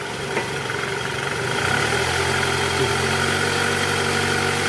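A 2.4-litre engine in a 2008 Toyota Camry idles steadily and then rises slightly in pitch as it is revved after a tensioner and engine mount repair, a continuous close hum without speech.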